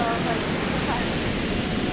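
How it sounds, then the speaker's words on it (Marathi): Ocean waves surge and break on Devgad beach with a steady, broad wash of surf noise, close and continuous with no clear gaps between waves. "लाटा खूप आहेत पाण्याची"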